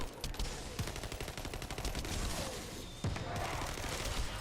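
Grenade attacks in The First Descendant going off in rapid, overlapping blasts and clatter, a dense continuous barrage of game combat noise with sharp bursts around the middle.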